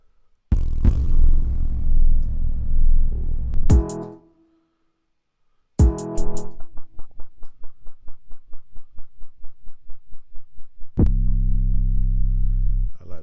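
Deep, booming 808 bass notes with long sustain in FL Studio, first a few held tones, then a pause, then a rapid run of repeated low hits ending on a sustained note.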